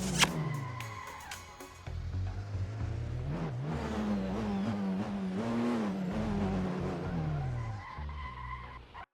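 A Porsche 919 LMP1 prototype in the Assetto Corsa racing game slides and skids, its high engine note wavering through revs while tyres squeal, a continuous, fairly loud stretch that ends abruptly.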